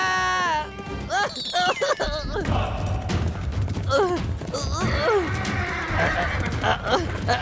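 A horse whinnies loudly with a shaky, descending neigh, followed by more neighs and snorts over rumbling movement and some background noise, on a hillside.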